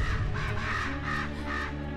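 Crows cawing in the video game Selma and the Wisp, a run of loud, harsh caws repeating in a steady rhythm, close and alone without voices.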